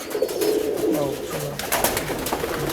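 A Pakistani Teddy pigeon gives soft, low cooing close by over a busy background hum.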